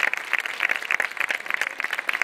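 Applause at a Spanish political party's crowded campaign-closing rally: dense, sustained clapping that holds steady for a couple of seconds, with no voices on top.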